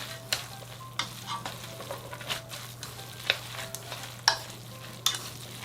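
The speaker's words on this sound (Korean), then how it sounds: "다 넣고 골고루 잘 섞어주세요." Japchae glass noodles are tossed with sautéed vegetables, sugar and sesame oil in a pan, producing a steady low sizzle broken by irregular scraping and clacking strokes of the utensil, close and alone.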